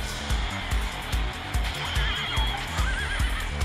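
White horse in the QQ Speed Mobile racing game whinnying over rhythmic galloping hoofbeats, with game music and effects underneath.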